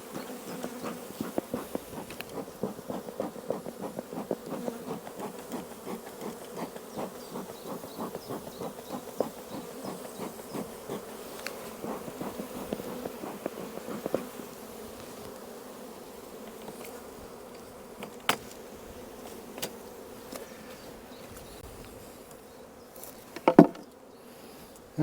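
Honey bees buzz steadily around an open hive during an inspection, a dense pulsing hum close by, with soft knocks and a sharper clatter near the end.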